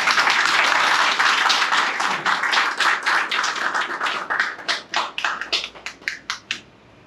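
Applause from an audience at a road safety awareness workshop starts as dense clapping, then thins out into scattered individual claps before stopping.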